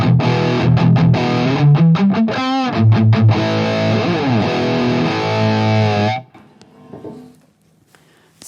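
Distorted electric guitar from a Schecter Banshee 6 through a Mesa Dual Rectifier amp with a Marshall 1960 AV cabinet, loud chugging riffs and sustained chords with bends, cutting off abruptly near the end into near silence.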